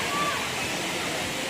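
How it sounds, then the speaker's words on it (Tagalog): River water at Paglitaw resort in Tanay, Rizal, flowing near a cave with a steady, close rushing hiss and no break. "Galing doon yung tubig, oh, dire-diretso."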